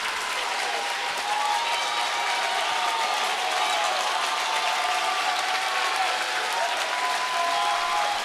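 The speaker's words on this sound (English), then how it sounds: "SPASH trying to fire up their crowd." Gym crowd at a girls basketball sectional final between Notre Dame and SPASH, steady dense applause and cheering held at an even level for several seconds, no talk over it.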